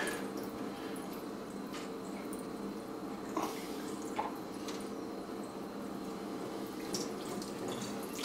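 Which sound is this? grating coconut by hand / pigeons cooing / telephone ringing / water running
water running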